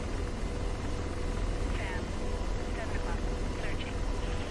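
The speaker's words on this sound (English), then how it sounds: "Helicopter." Helicopter rotor drone in a combat video game with a K-50 attack helicopter nearby, a steady low throbbing roar filling the whole stretch under speech.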